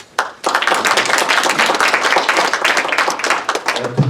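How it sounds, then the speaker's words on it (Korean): A congregation at a church elders' association prayer breakfast in New York claps to welcome newly joined elders: a sharp start, then a loud, close, sustained burst of hand clapping throughout. "우리 박수로 환영해 주시기 바랍니다"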